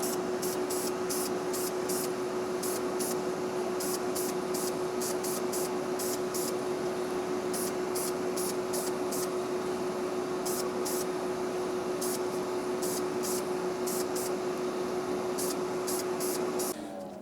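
Primer is sprayed in a thick wet coat onto a Hot Wheels '66 Nova die-cast body, an even, continuous aerosol hiss with a steady tone running the whole stretch before cutting off at the end.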